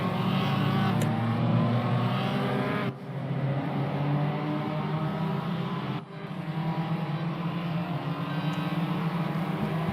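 Formula Ford race car engine at Portimao, a steady, loud buzzing drone as cars run around the track, with brief dips between sustained stretches of engine noise.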